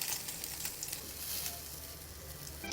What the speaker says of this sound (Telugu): ఎగ్ అండ్ మిల్క్ మనం మిక్స్ చేసుకున్నాం కదా, దాంట్లో బ్రెడ్ ముంచి దాన్ని టోస్ట్ చేసుకోవాలన్నమాట కొంచెం మంచిగా